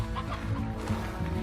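Chickens cluck in the video game Slime Rancher, a busy run of short close clucks over a steady low game background hum, with no talk.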